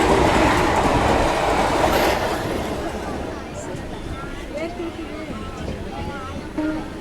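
Passenger train on the Bengaluru line rolling alongside at close range, a loud rumbling rush with rhythmic clatter of wheels on track that gradually eases, with faint squeals toward the end.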